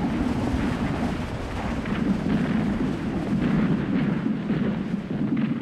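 Heavy cannon artillery fire on a battlefield forms a continuous, dense low rumble of overlapping booms, loud and sustained throughout, with no separate distinct shots.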